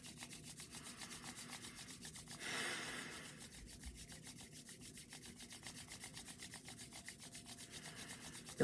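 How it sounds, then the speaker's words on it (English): A person's palms rubbing briskly together to build heat, a continuous close, soft rasping swish with an even back-and-forth rhythm and one slightly louder swell, no talking. "Rub your hands together."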